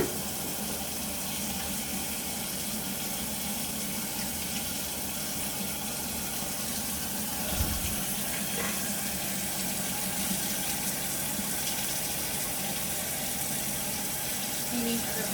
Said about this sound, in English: Turning on my water